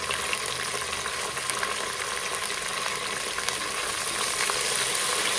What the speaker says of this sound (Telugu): ఇప్పుడు ఇందులో మెంతి పుదీనా వేసుకొని కొద్దిసేపు ఫ్రై చేసుకోవాలి